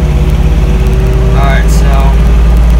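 John Deere tractor engine running steadily after a restart, a loud low idle drone with a constant hum close by while someone speaks over it.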